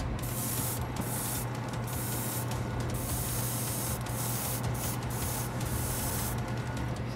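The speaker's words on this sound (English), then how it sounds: "we're just going to start airbrushing" An airbrush hisses continuously while spraying paint across a whole board-game miniature, the steady close spray broken by a few brief pauses and restarts.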